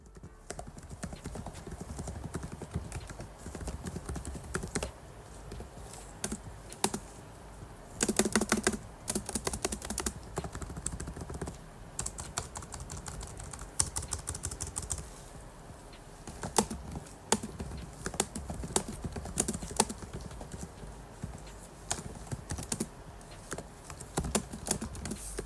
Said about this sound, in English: the sound of the laptop keys is a delight for me